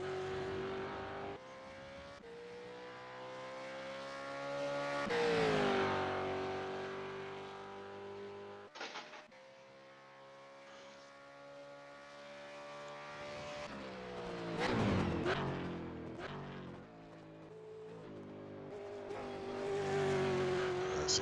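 Simulated supercars lapping Sebring International Raceway in iRacing, their engines loud and continuous with rising and falling revs through the final turns, a brief drop near the middle, then a hard acceleration onto the straight.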